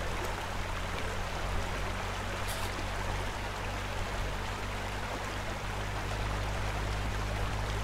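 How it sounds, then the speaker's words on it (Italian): Pool water draining out in the video game Pool Cleaning Simulator, a steady broadband rush of flowing water with a low hum underneath, continuous and even throughout with no voices. "Come vedete si scarica l'acqua."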